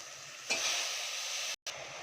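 Vegetables fry in a hot pan for white channa kurma, a steady close sizzle with a louder surge as they go in and a brief drop in the middle before the hiss resumes.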